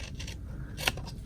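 Scissors make a single quick snip through craft material for a Halloween project, a brief sharp cut standing out near the end over a quiet background.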